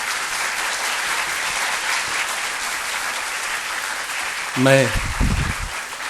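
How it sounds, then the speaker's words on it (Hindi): A large audience at a cultural performance on a campus in New Delhi applauds the performers with sustained, dense clapping that fills the room, then a voice begins speaking near the end. "आप कृपया इन कलाकारों का तालियों से अभिवादन करें।"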